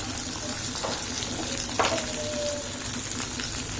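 Potatoes fry in hot, smoky mustard oil in a pan over a low gas flame for a mushroom curry, giving a steady close sizzle with a brief clink and scrape of stirring partway through.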